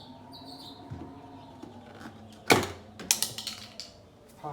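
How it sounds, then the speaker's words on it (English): A plastic push-button piece is pried out of a Camaro door handle with a flathead screwdriver, giving one sharp snapping crack followed by several smaller clicks and rattles of loose plastic, close up over a quiet hum. "Pop that plastic out."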